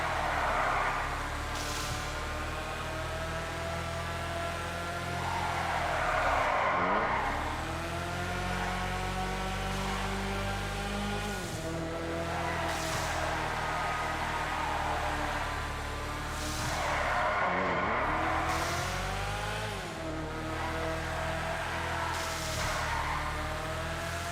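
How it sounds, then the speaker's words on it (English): An Annis ZR350 in GTA V Online drives hard, its engine revving up in long whining climbs that repeatedly drop and rise again with gear changes, loud and continuous throughout. "So let's take this thing for a spin."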